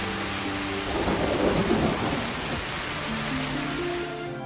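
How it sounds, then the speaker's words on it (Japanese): Heavy rain hisses steadily in the video game Shiren the Wanderer 6 while a thunder rumble swells near the middle and fades, loud and close, with tonal game music underneath and no speech. "雨がすごい勢いで"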